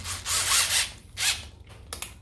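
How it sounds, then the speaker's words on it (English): Wrench tightening bolts on a 2017 Yamaha Bolt motorcycle handlebar, a few short ratcheting and rubbing bursts up close, with brief pauses between them and no talk. "Now you could actually tighten up your bolts correctly."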